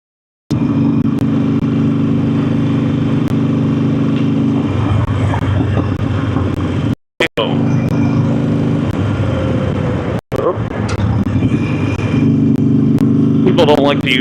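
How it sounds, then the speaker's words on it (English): Continuous engine drone of vehicles and many motorcycles rolling in Memphis traffic, loud and close, with someone talking over it and brief dropouts. "Lots of motorcycles."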